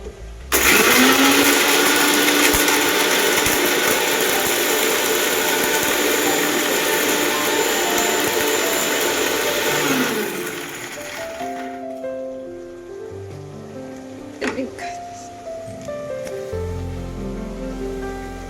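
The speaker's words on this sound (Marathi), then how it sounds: "हे गरम मसाला बारीक करून घेऊ" Mixer grinder grinding garam masala for a Maharashtrian mutton sukka, a loud close whirring roar that runs for about ten seconds, winds down, then gives way to quieter clatter as the jar is handled.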